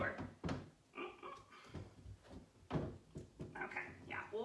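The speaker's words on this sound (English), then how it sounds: "I took the hardware off and now I can open the door." A cabinet door on a corner cabinet, with its hardware removed, is opened and gives a series of close, muffled thumps and knocks in a quiet room.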